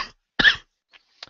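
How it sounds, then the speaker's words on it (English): A person coughs once sharply and loudly, followed by two faint, brief throat sounds, with silence between them and no speech. "sorry, I've got a cough at the moment."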